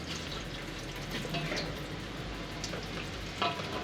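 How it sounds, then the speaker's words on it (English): Oil drains from a VAG Haldex front differential during service, a quiet continuous trickle with a few faint clicks and knocks in a workshop. "Now that we've got the oil draining"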